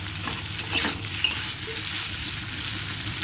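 Kudri vegetables frying with chili and tomato in a pan, a steady close sizzle running throughout while a spoon stirs them, with a couple of brief scraping bursts near the start.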